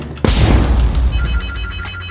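An alarm sounds in a toy play scene, starting with a sudden loud burst and then continuing as a sustained ringing tone that stays loud throughout, with no talk.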